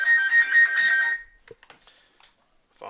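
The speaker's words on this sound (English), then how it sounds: "Phone's going to start ringing here." A phone ringtone plays loudly for about a second with a bright, warbling electronic melody, then cuts off, leaving faint clicks and quiet room noise.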